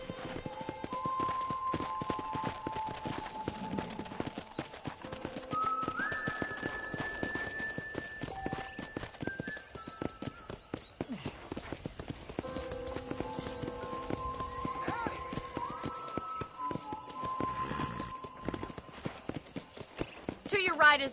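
Steady clip-clop of horse hooves at a walking pace in the video game Red Dead, faint under ongoing talk and light background music.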